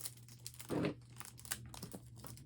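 Plastic packaging around a packaged blanket crinkles as it is folded, a soft close-up rustle with one short louder crunch and faint scattered crackles.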